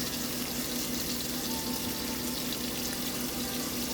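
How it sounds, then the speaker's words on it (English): Water runs and rushes steadily at a low level as a washing machine fills during a laundry load, a continuous hiss and gurgle with a television faintly audible in the background. "Y'all hear the noise in the background as I'm washing a load of clothes."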